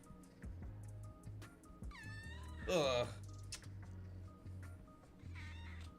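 A domestic cat meowing indoors, with two close, drawn-out meows in the middle and a shorter one near the end, over faint clicking and a brief spoken word.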